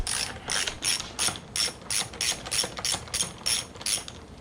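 A socket ratchet works loose a 12 mm exhaust hanger bolt on a Kawasaki KLX250 dirt bike, giving about a dozen rhythmic clicking strokes, close and clear with no talk.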